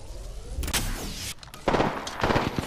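Bursts of gunfire ring out in the video game Apex Legends, several sharp shots followed by rapid volleys, loud and close, with no voices.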